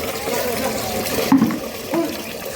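Water runs into a bucket, a close, gurgling splash and pour that swells and dips briefly over a few seconds.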